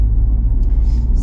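A car interior rumbles with a steady, loud low drone of road and engine noise while driving, continuous and close, with no talk over it.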